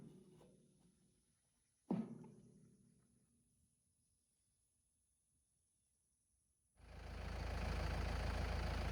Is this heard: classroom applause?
no